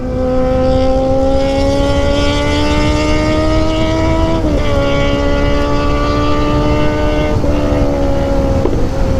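A loud, steady car exhaust drone with strong harmonic tones that shift in pitch a couple of times, continuous and close with no talking.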